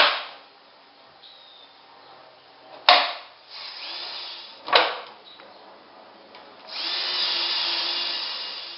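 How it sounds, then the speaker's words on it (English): A power drill bores a hole in wood backed by a backer block during base cabinet assembly, with two sharp clacks followed by a steady whine of the drill running near and clear. "that's where I want to drill a hole at. And I'll just come in with a backer block"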